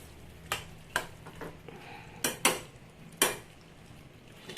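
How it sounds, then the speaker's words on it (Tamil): Mustard seeds, urad dal, cumin and fenugreek temper in a pan for thakkali thokku, a few sharp crackles and utensil clicks scattered over a faint, low background. "கடுகு உளுத்தம்பருப்பு கொஞ்சம் சீரகம் கொஞ்சம் வெந்தயம் போட்டு தாளிச்சுக்கோங்க"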